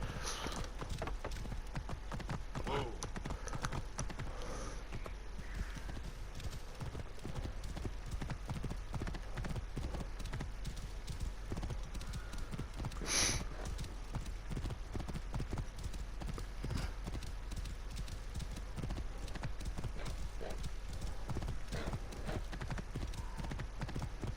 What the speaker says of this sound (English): it's my actual horse Lucius